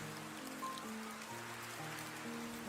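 Steady rain falls as a constant hiss, an even wash of drops with no break, low in level and heard alone under a soft held musical drone.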